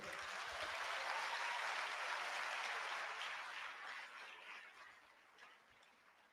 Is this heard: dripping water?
no